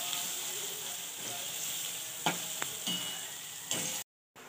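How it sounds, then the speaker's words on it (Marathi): Spice masala for shev bhaji fries in hot oil with a steady close sizzle, a few stirring scrapes and clinks breaking through before a sudden cut. "2 मिनिटं छानपैकी फ्राय करून घेणार।"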